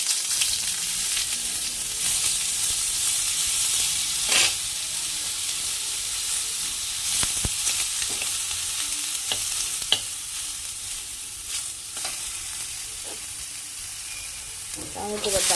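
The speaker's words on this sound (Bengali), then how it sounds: "বেগুনটা দিয়ে দিস তাহলে বেগুনটা একটু ভাজা হয়ে যাবে একবারে" Steady sizzling hiss of eggplant frying in hot oil, with occasional clinks of stirring throughout.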